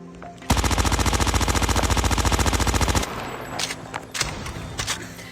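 A long sustained automatic burst from the MX9 submachine gun in a shooter game, rapid evenly spaced shots for about two and a half seconds, loud and close, followed by quieter scattered game sounds.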